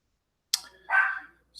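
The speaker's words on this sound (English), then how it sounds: "a dog's like literally standing right outside my apartment barking" Dog barking outside an apartment: a couple of sharp, fairly close barks with a brief gap between them, and nothing else in the background.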